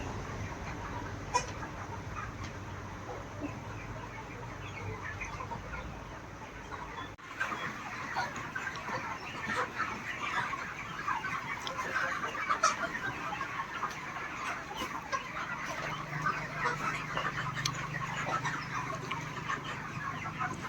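Chickens cluck and murmur throughout a poultry farm shed, a dense, continuous flock chatter with occasional sharper calls, moderately loud and without speech.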